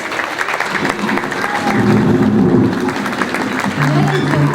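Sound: applause for an award presentation

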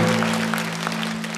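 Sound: audience applauding

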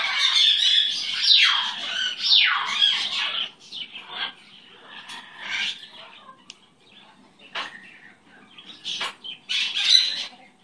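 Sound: pet bird squawking and flapping wings

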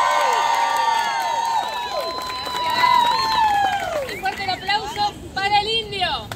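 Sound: crowd shouting, whistling and applauding

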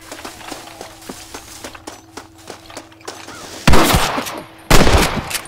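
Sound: gunfire in the video game Red Dead Redemption

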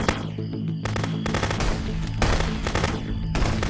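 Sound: gunfire in video game Contraband Police

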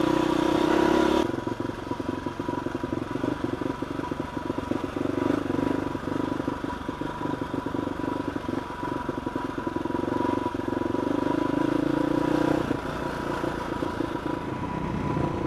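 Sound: Husqvarna supermoto motorcycle rear tire spinning on clay

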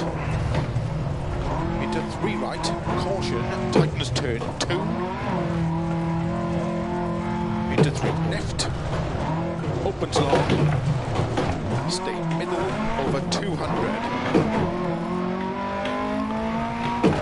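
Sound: Lancia Fulvia rally car driving and skidding, DiRT Rally 2.0 video game

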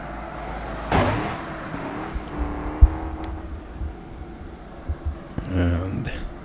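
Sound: car driving in the video game BeamNG Drive

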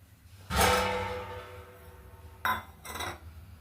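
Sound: plate set aside and lid taken off a kadhai

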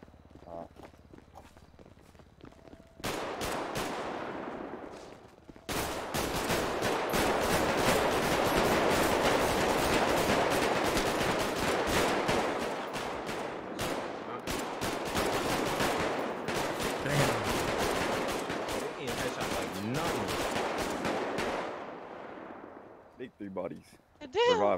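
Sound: gunfire from guns in a video game (GTA roleplay)

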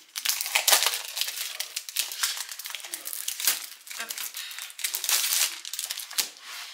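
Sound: handling a paper set of cut-out images

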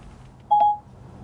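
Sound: phone call dialing tones via Apple CarPlay in Audi

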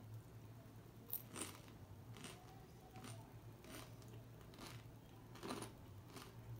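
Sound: biting crunchy puff pastry from Carlos Bakery

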